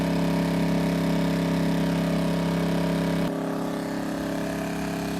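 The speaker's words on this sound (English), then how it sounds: "So I'm going to take the load off the generator, let the engine cool down a bit, and change that oil." Erayak 2400W inverter generator running under load, a loud steady engine drone with strong humming tones that abruptly drops to a lower, quieter idle as the load comes off.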